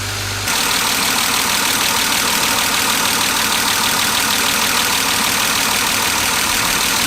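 A BMW E36 car engine, from an abandoned car, idles steadily and close by, a constant even rumble after a brief start, with no voices.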